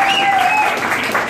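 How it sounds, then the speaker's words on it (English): Brief, dense applause from an audience for a singer performing a jazz standard on stage, close and continuous, with a faint tone ringing over it. "please give her a huge round of applause"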